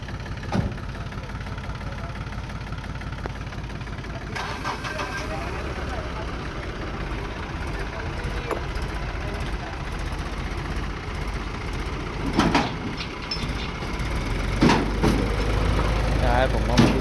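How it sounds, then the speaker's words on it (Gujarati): A tractor engine idles and rumbles steadily while it tows a car stuck in the ground, a low mechanical drone with a few clanks, and people talk over it at times. "ટ્રેક્ટરમાં ખેંચો ગાડી."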